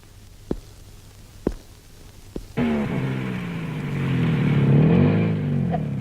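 A car engine starts up after a few sharp knocks, then idles and revs gently as the vehicle pulls in close by, its hum rising and holding steady.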